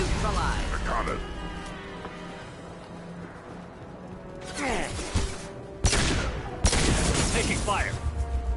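Mass Effect 2 combat gunfire crackles in rapid bursts, growing denser and louder toward the end, with voices talking over the shooting.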